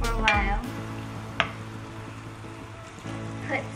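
Mushrooms fry in a pan with steady sizzling and a few stirring clatters, the crackle dipping briefly and then returning.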